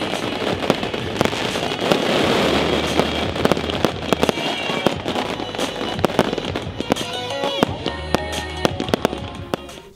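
Fireworks explode and crackle in a dense, continuous barrage around New Year's Eve in the Netherlands, with many sharp bangs close by and no talk over them.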